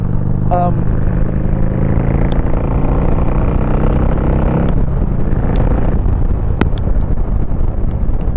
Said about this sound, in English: it's got a nice, like, deep, throaty Harley sound to it